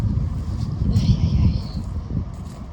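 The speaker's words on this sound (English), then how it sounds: "It is really windy out here." Strong wind blows outdoors around a property after a windstorm, a low, gusty rumble against the microphone that swells and then subsides, with a brief higher whistling tone in the middle.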